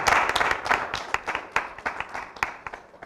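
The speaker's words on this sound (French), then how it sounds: "On applaudit très fort." Audience claps for a guest arriving on a French talk-show set, dense applause at first that thins into scattered, separate hand claps toward the end, close and lively.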